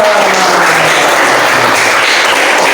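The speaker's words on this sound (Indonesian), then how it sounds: "Tepuk tangan kita semua" A classroom of students applauds together in the morning, a dense, steady wash of clapping that fills the whole stretch at close range, with faint voices mixed in.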